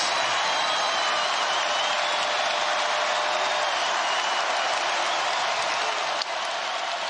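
Packed arena crowd at Allen Fieldhouse roars after a banked three-pointer in a WVU at Kansas basketball game, a dense, loud, sustained wash of cheering and applause that stays at full intensity throughout.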